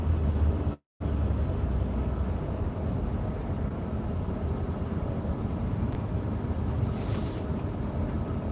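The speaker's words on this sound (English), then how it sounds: "It's 77 degrees, low humidity, but boy, is it windy." Strong wind on a warm, low-humidity day roars steadily and loudly against the microphone, a continuous rushing buffet with a brief dropout near the start and no talking.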